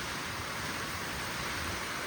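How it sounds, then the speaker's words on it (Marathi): Heavy monsoon rain and wind in a village, heard from under a shed: a dense, steady roar of rain with a continuous hiss of gusting air, loud and unbroken. "वारा पाऊस भयंकर बेकार पाऊस चालू आहे"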